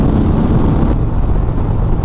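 Indian Springfield Dark Horse motorcycle (2023) with the 116 Thunderstroke engine cruising on a highway in sport mode, a loud, continuous low engine drone heavily mixed with wind rush, steady and unbroken.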